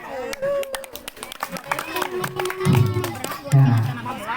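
Audience of students clapping at a school Maulid Nabi celebration, scattered uneven clapping mixed with crowd chatter and voices.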